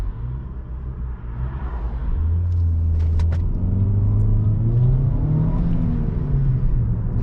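A Ford Fiesta accelerates from inside the cabin, its engine note rising in a smooth low rumble through a gear change and climbing again, steady and close with no talking.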